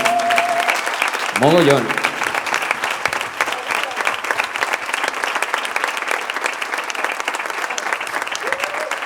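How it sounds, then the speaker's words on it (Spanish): Loud, sustained audience applause for a guitar, bass and drums combo at a live music evening, dense clapping filling the whole stretch with crowd noise and a brief voice near the start. "Un altre fort aplaudiment per ells"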